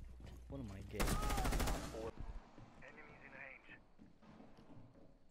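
A rapid burst of automatic gunfire in Rainbow Six, loud and dense for about a second, shot at a wall. Voices talk over the shots and afterward.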